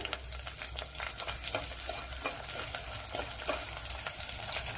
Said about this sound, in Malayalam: രണ്ട് പച്ചമുളക് അപ്പോഴേ നല്ലവണ്ണം ഒന്ന് മൂപ്പിച്ചെടുക്കണം